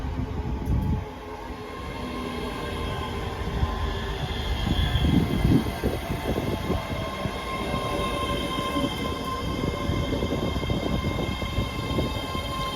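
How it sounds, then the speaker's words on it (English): A ScotRail train pulls out of Haymarket station, its low rumble and wheel clatter building and then holding steady, with faint squeal and hum from the rails, no voices. "departing out now is the delayed 1612 ScotRail service from Edinburgh Waverley to Milngavie"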